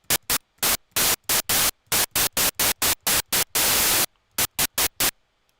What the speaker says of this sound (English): I'm going to put this on my noise generator.